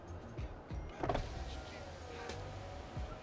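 Electric rear window motor of a used Volkswagen Polo or Golf humming as the glass slides open, a faint steady whine inside the car, with soft clunks and quiet talk around it.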